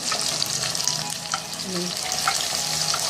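Minced keema sizzles in a pan with red chilli powder and spices, a dense close crackling hiss broken by a couple of stirring scrapes.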